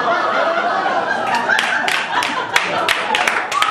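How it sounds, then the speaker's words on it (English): Live comedy club crowd at The Comedy Studio breaking into scattered clapping mixed with chuckles and laughter, a loose burst of applause that swells and holds through the short stretch. "That got applause, okay?"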